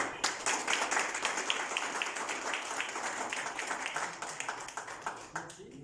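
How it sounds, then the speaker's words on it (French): An audience at an international graduation ceremony clapping for a graduate, moderately distant rhythmic applause with distinct individual claps and some talk underneath. "Oui, on peut applaudir."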